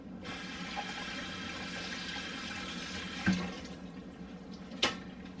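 Water running steadily from a kitchen tap while dishes are washed up at home, a constant close rush with two brief clunks of items knocked in the sink, no talk.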